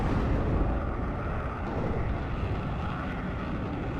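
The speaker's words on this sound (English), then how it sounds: "Electric Voodoo coming in, really cool aircraft" A Canadian Electric Voodoo electronic warfare jet in the WARNO war game flies in, a steady low roaring engine drone held at a constant level throughout.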